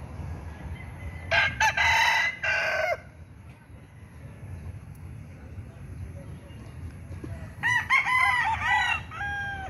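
A rooster crows twice, loud and close, in a backyard at morning, with the first crow somewhat hoarse and the second a clear, long call, both set against steady low outdoor rumble and faint surrounding fowl activity.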